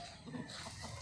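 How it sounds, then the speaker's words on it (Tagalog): Several chickens cluck and murmur close by in a cramped yard beside an airgun target range, a busy, uneven texture of short fowl calls with no talking. "Pasensya na, maraming manok."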